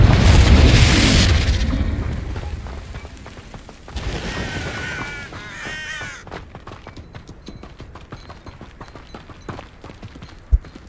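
A Confringo fire spell explodes in the video game Hogwarts Legacy: a loud, broad blast opens and rolls off over about a second, followed by quieter in-game effects and scattered clicks.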